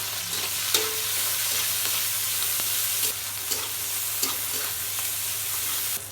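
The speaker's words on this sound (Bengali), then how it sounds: "পেঁয়াজ মরিচ ভাজা হয়ে গেছে" Onion, garlic, dried red chillies and green chillies fry in a pan, a steady close sizzle broken by scattered stirring scrapes and clinks, with no talking.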